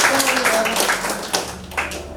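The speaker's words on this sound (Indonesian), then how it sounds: "Kita berikan aplaus" An audience at a school teachers' session claps briefly for Pak Jai, a short burst of light applause near at hand that quickly trails off, with speech mixed in.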